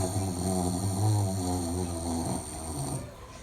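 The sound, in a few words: comedian imitating a man's snoring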